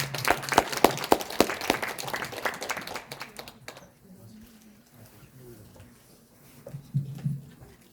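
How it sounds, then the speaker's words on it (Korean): An audience at a Korean citizens' lecture on dating violence claps to welcome the lecturer, a burst of applause that stops abruptly partway through, followed by quieter room noise and a voice near the end. "박수 부탁드립니다"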